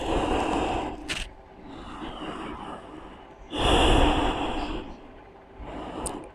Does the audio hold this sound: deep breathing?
yes